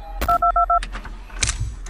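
A phone keypad being dialed in the horror video game Five Nights at Candy's 2: four quick, evenly spaced dual-tone beeps ring out clearly and loudly, followed by a few scattered clicks and thumps over low background hum.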